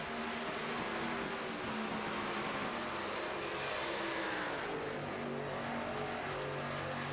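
Stock race cars running nose to tail at Texas in a sim racing game, a dense, steady roar of several engines with shifting pitch, somewhat distant and continuous, no voices.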